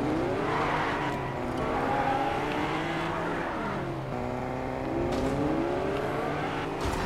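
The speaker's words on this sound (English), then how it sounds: "Oh my god, you can drive the taxis now" A taxi engine in Fortnite revs and drones continuously, with pitch rising and falling as it drives and skids, loud and steady throughout.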